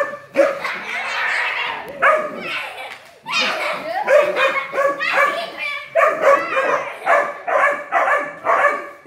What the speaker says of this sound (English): They are just barking.